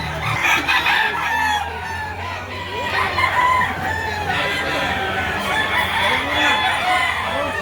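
Roosters crow several times amid clucking chickens at a chicken market, with a busy background of birds and faint voices nearby.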